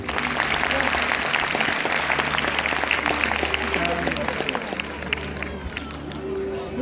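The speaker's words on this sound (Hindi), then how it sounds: "एक बार उन बच्चों के लिए ताली बजाइए" Parents and guests at a Delhi school's 37th annual day celebration clap loudly for young children, a thick, continuous crowd applause with scattered cheers and background voices that holds strong before easing slightly toward the end.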